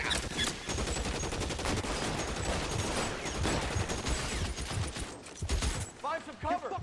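Dense gunfire in an L.A. Noire shootout rattles continuously with rapid overlapping shots and machine-gun bursts, loud and chaotic, with voices shouting amid the shooting.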